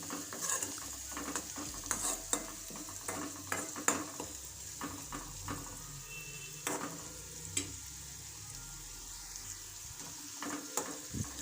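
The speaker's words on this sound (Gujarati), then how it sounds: "તેલમાં સતળાઈ જાય ત્યાં સુધી હલાવવાનું" Garlic and onion sizzle in hot oil in a pan while a spoon stirs them, giving a constant close frying hiss broken by irregular scrapes and taps against the pan, with no talk.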